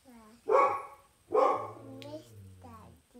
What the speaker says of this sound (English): Why do you think he's barking?